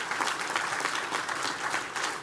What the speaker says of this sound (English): let's give our command staff a round of applause from the DeKalb Police Department